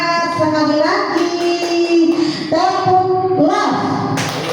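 A group of adult workshop participants chants the 'tepuk love' clap routine together, their sung voices blending in rising and falling phrases over steady, close claps for the whole stretch.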